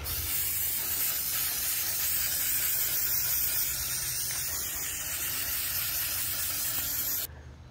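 An aerosol spray can lays a coat of paint onto a metal file cabinet, giving a continuous loud, close hiss that holds steady for about seven seconds before cutting off abruptly.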